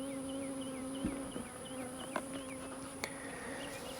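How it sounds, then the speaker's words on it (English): Honeybees buzzing around a hive box during a hive merge, a steady close drone with individual bees passing nearby and a few faint knocks. "Watch out, little bee."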